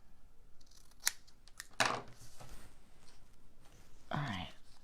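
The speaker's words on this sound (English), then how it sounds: "let's trim it off just a little bit" Scissors trim paper for a floating triple pocket craft, a few quick close snips spread through the moment under soft nearby rustling, fairly quiet.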